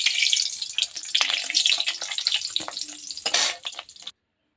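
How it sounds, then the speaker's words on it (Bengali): A papad drops into hot oil that holds stray water, setting off loud, close, crackling spatter with sharp pops and bursts for about four seconds before cutting to silence. "তেল গরম হয়ে গেছে। পাঁপড়টা ছেড়ে দিই, দেখি।"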